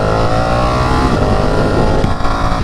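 A Ducati Panigale 959 motorcycle on its stock exhaust revs hard inside a parking garage, a loud, continuous, echoing engine roar that holds steady throughout with no talking.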